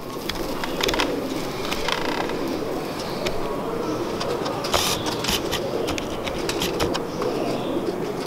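Golden pigeons coo softly amid a busy background of rustling, creaks and scattered clicks, with the bird calls fairly close but partly masked by the surrounding noise.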